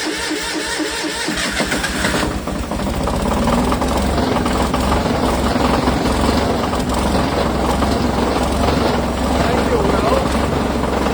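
An MEP002a military diesel generator from auction cranks and catches, then runs as a loud, steady, rough diesel clatter that continues throughout with someone talking over it.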